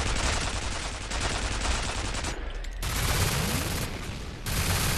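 An automatic turret fires in F.E.A.R. Extraction Point, a dense, loud, continuous stream of rapid gunfire with two brief pauses.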